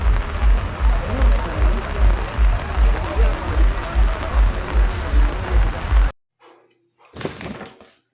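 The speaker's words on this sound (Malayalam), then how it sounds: "നല്ല മഴ പെയ്യുന്നുണ്ട് ഇവിടെ" Heavy rain falling outdoors at Illikkal Kallu in Kottayam district, a loud, dense, steady roar that cuts off abruptly and is followed by brief muffled thumps.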